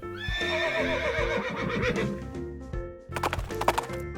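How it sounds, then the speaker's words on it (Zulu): A horse gives a loud, close, quavering whinny, then a pause, followed by a burst of sharp hoof clip-clops. "Ihashi."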